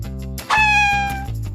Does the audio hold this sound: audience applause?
no